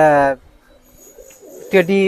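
Teddy pigeons coo softly and low between stretches of close male speech, with the birds faint under and between the voices.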